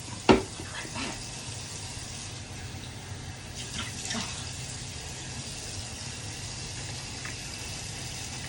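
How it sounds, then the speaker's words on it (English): Tap water running into a sink while someone washes their face, a steady hissing flow opening with a sharp knock, with faint splashes and clatters over the next several seconds. "And let me wash my face."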